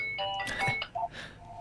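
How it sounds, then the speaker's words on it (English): A mobile phone ringing with a bright electronic tone, a few short melodic bursts that rise and fall, fairly quiet and heard on its own without speech. "That's my phone, Regan."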